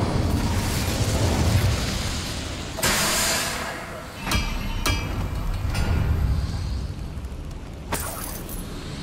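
Incendio fire spell from Hogwarts Legacy, a roaring burst of flame with sharp crackling pops and booming blasts over a steady rumbling background.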